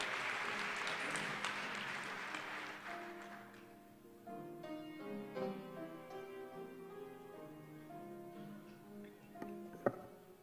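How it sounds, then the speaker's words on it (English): A church congregation claps hands together at a memorial celebration for a bishop, dense broadband applause fading after a few seconds as organ or keyboard chords take over, with a sharp accent near the end. "let's clap our hands and thank God"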